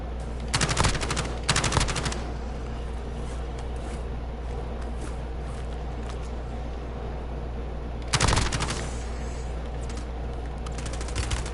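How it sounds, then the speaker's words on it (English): Bursts of automatic gunfire in the video game Warzone, a rapid rattling volley near the start and another burst around eight seconds, over a steady low game ambience. "Gunfire"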